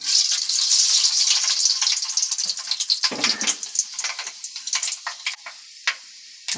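Fenugreek seeds fry in hot oil in a pan, a bright loud crackling sizzle that gradually thins into scattered pops and spatters.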